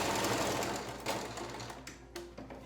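Sewing machine stitching a fabric face mask lengthwise, a steady close mechanical whirr running for a couple of seconds with brief pauses and restarts near the end.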